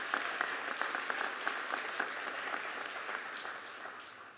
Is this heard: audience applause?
yes